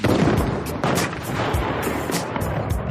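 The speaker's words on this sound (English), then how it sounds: "a charge of aluminum dust caps off the sequence with a bright flash and a deafening kaboom" A multi-break firework shell ends in an aluminum-dust charge with a deafening kaboom, heard as a dense, rumbling barrage of loud booms and crackling bursts that blend into a continuous roar.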